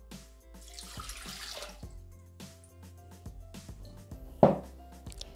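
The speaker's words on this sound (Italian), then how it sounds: "Iniziamo la ricetta mettendo all'interno del boccale l'acqua" Water poured into a Thermomix (Bimby) mixing bowl, a soft splashing trickle with a few drips and a sharp clunk near the end, over quiet kitchen background.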